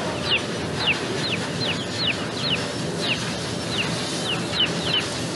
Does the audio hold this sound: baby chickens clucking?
yes